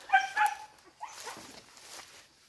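Dogs out in the forest give a couple of sharp high yips and barks at the start, followed by softer rustling and whining, fairly close.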